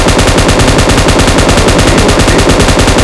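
Dense, rapid string of firecrackers bursting nonstop, loud and close, a continuous crackling barrage filling the whole stretch with no pauses and no voices.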